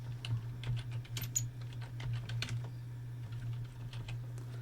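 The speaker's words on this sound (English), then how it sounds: "I'm going to put my mouse cursor in there, and I'm going to type Windows PowerShell" Rapid, close keyboard clicks as someone types on a Windows 11 computer, bursts of light keystrokes over a steady low electrical hum, no voices.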